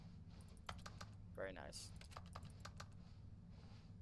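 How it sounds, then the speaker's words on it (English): Soft keyboard-typing clicks from menu selections in The Stanley Parable, a short cluster of light taps under a steady low game hum, with someone briefly speaking over it. "no matter what I click, it always sounds like I'm like typing on a computer."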